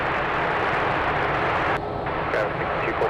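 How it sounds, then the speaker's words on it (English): Japan Airlines airliner bound for Tokyo Haneda on its takeoff roll at San Francisco airport, a loud continuous broadband engine roar holding steady from start to finish with a brief dip near the end. "Japan Airlines 1 heading off to Tokyo Haneda. Now on its takeoff roll."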